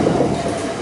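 Southeastern Class 376 electric train passing a level crossing in London, a steady close rumbling roar that fills the whole short moment without letup.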